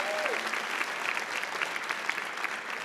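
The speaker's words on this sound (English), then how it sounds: "Can we applaud that?" Audience at a literary talk with a novelist applauding, a continuous even wash of clapping heard from within the crowd, moderately loud and steady throughout.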